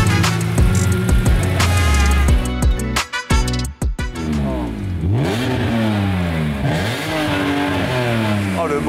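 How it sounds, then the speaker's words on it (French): A BMW M3 E46 with its S54 B32 inline-six revs hard on a dyno, loud and close, climbing through several sweeping pulls and dips, with a voice speaking over it. "Oh, le bruit du S54"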